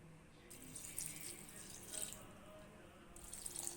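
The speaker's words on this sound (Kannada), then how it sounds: "ಇದಕ್ಕೆ ಸ್ವಲ್ಪ ನೀರು ಹಾಕ್ತಿದ್ದೀನಿ ನೋಡಿ" Water poured onto soaked rice, a faint, continuous running and splashing flow with no speech.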